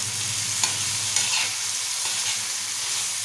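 Prawns stir-fried in masala on a tava, with a steady close sizzle and spatula scrapes against the pan running throughout, no voices.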